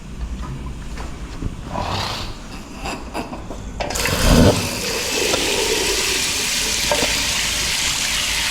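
Water gushing from a faucet in a public restroom at Changi Beach Park, Singapore, a steady rushing hiss that grows louder and fuller partway through and then continues evenly, with no talking.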